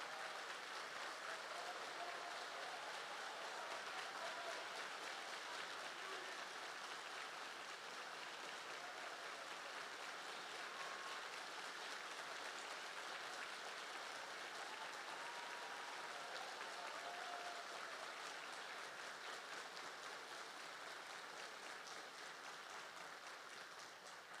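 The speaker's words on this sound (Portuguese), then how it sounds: "aplaudindo o Senhor pela vida dele" A standing Baptist church congregation applauds its pastor with sustained, even clapping that holds at a constant level for over twenty seconds, broad and crowded.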